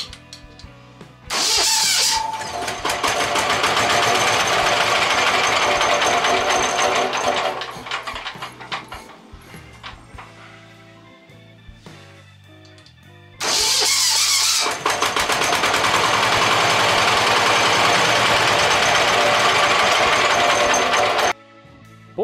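A walk-behind tractor engine cranked by an electric starter in a cold engine at 12 degrees, catching twice into a loud rattling idle that runs several seconds, then cutting off each time.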